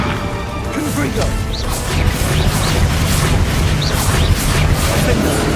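Repeated Confringo blasting-spell impacts in Hogwarts Legacy land as loud, continuous crashing booms with whooshing bursts, dense and close, while a voice shouts over the chaos.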